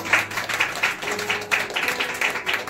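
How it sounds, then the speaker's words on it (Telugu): Congregation at a church service clapping together for God, a rhythmic burst of hand claps in a reverberant hall, moderately loud. "చప్పట్లు కొడదామా దేవుని?"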